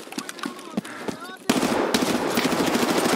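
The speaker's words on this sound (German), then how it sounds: "Ich habe mich einen Schuss abgegeben mit der schönen MP7" Rapid MP7 submachine gun fire in the shooter game Escape from Tarkov on the Factory map, a loud sustained burst of shots in the second half after sparse sharp cracks, with indoor echo.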